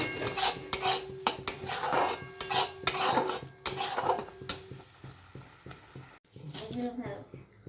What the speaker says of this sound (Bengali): দেখুন এটাকে ভালো করে নাড়লে কালারটা চেঞ্জ হবে।